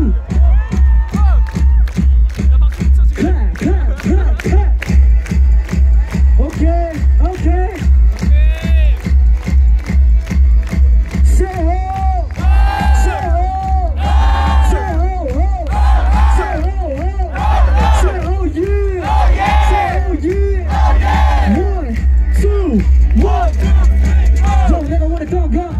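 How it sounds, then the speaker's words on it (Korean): A large crowd at a live music performance claps and cheers loudly and continuously, with a steady beat under the noise and shouts and whoops rising toward the end. "다 같이 박수!"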